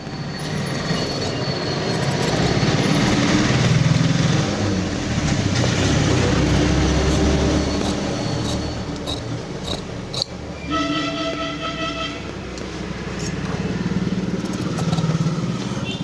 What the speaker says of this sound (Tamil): வண்டி சவுண்டு நிறைய கேட்கும்,